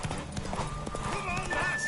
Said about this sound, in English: Worthy of the best horse.